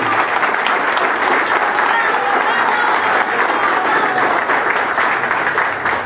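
A crowd applauds steadily and loudly for a political supporter at an evening event, a dense, continuous clapping that holds for several seconds.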